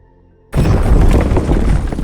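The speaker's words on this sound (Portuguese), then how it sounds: "A tampa de 1000 toneladas que ficava sobre o reator é arremessada para cima por causa da explosão." A nuclear reactor explodes and hurls its 1000-ton lid upward at Chernobyl, heard as a sudden, loud, deep rumbling blast after near silence that sustains as a heavy roar.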